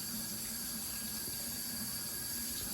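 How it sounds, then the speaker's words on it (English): A steady, low liquid trickle of oil pouring into a bowl, quiet and continuous, with a faint hiss above it and no voices. "I'm sure this is really exciting just watching me pour oil"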